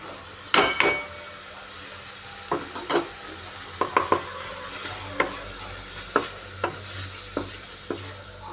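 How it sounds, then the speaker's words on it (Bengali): Cabbage with red chilli powder and coriander powder sautéed in a pan, a spatula scraping and stirring in repeated sharp strokes over a soft, steady sizzle, close and moderately loud. "সব মশলা দিয়ে আরও একবার ভালোভাবে কষিয়ে নিতে হবে"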